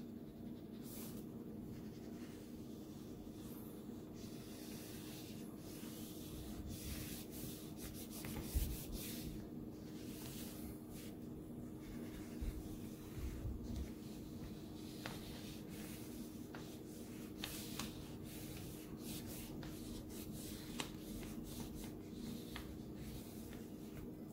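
A pink crayon or marker rubbing steadily on paper while coloring the inside of a paper bunny's ears, a soft continuous scratching over a low, steady background hum.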